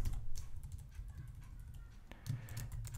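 Someone types code on a computer keyboard, a quick, soft, irregular run of key clicks close to the microphone over a low background hum.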